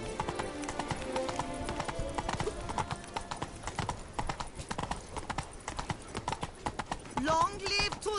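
In The Witcher 3, the horse Roach trots with a steady rhythmic clip-clop of hooves, a brief whinny toward the end, and voices talking over the hoofbeats.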